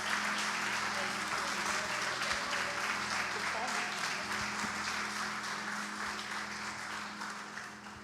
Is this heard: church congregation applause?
yes